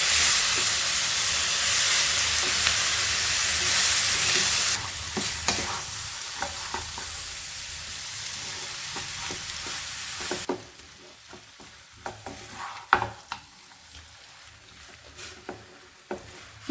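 Stingray pieces coated in masala fry in a pan, with loud steady sizzling and hissing in the first half. The sizzle then drops away, leaving quieter scraping stirs and scattered clatters near the end.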